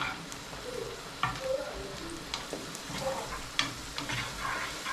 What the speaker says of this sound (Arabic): وهنبتدي نقلب.